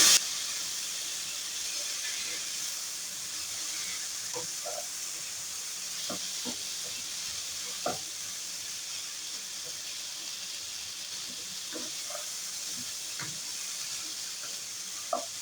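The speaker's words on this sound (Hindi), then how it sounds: "बिल्कुल कम आंच पे मसाले को हमें भूनना है गोभी के साथ।" Spices roasting with cauliflower over a very low flame in a pan, giving a steady soft hiss and sizzle throughout with a few faint stirring clicks scattered over it.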